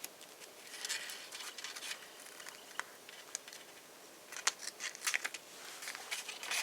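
Quiet, irregular snipping and crisp rustling, like scissors cutting through paper close by, with scattered sharp clicks and no talking.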